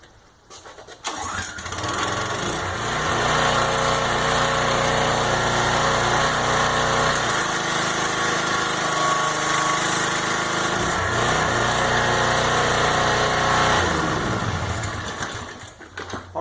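A repaired pressure washer's small gasoline engine is pulled and catches, then runs loud and steady close by with a high buzzing drone and slight shifts in pitch, before settling down near the end.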